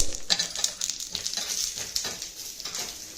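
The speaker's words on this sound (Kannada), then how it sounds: "ಸ್ವಲ್ಪ ಸಾಸಿವೆ ಕಾಳು ಹಸಿಮೆಣಸು ನಿಮಗೆ ಖಾರಕ್ಕೆ ಎಷ್ಟು ಬೇಕೋ ಅಷ್ಟು ಹಸಿಮೆಣಸು ಬೆಳ್ಳುಳ್ಳಿ ಇದಿಷ್ಟು ಹಾಕಿ ಚೆನ್ನಾಗಿ ಹುರ್ಕೊಳ್ಬೇಕು" Mustard seeds, green chilies and garlic fry in a pan with a steady close sizzle, brief sputtering pops and scraping stirs throughout, with no talking.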